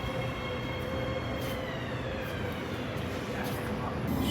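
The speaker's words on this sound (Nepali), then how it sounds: "मेट्रो पनि आइसक्यो र हामी चढ्नेछौँ मेट्रोमा" A metro train pulls into an underground station with a loud, steady rumble of wheels and carriages that fills the whole stretch, and faint voices are audible in the background.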